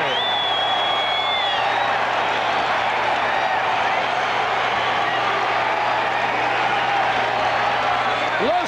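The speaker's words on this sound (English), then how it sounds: "Listen to this crowd." A baseball stadium crowd at a Cubs versus Pirates game roars continuously with cheering and applause in a dense, sustained wash of noise, while a broadcaster's voice is partly audible over it.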